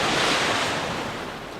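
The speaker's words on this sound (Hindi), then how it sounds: "गहरे समुद्र के ऊपर पहुंचकर शिकंजा खुला और कार समुद्र में जा गिरी।" A car dropped from a helicopter plunges into the deep sea, giving a loud, continuous rush of splashing water and surf that fades slightly over a brief moment, with no voices.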